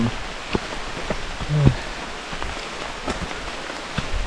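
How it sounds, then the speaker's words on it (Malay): Steady rain falling during a mountain hike on Gunung Silipat, a constant close patter of drops with a few sharper taps and a brief rustle, heard alone without talk. "Masih hujan."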